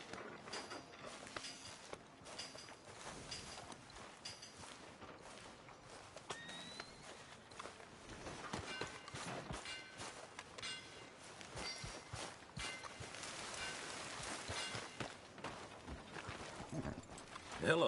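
Horse hooves clip-clop steadily in Red Dead Redemption 2, a quiet, continuous walking rhythm across the whole stretch, with faint background ambience.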